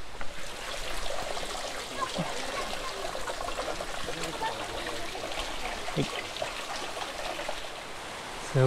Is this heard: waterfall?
yes